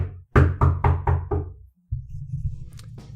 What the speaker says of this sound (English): chapter 1 has sound effects. Knock, knock, knock, knock, knock.